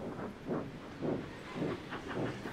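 A cartoon steam locomotive pulling a coal train lets out soft, rhythmic hissing puffs, four or five evenly spaced bursts of steam at a fairly low level, with no talking.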